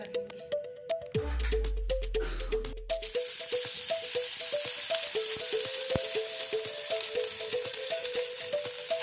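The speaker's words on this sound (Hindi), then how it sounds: "ये नान डिप करके हम तवे पे बटर लगा के इनको फ्राई कर लेंगे।" Naan fries in butter on a hot tawa. A loud, even sizzle rises after a brief rumble and clatter, then continues with regular light tapping and scraping on top.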